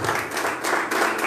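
A congregation claps during a Portuguese-language church worship service, a thick, continuous wash of many hands, loud and close, with no talking on top.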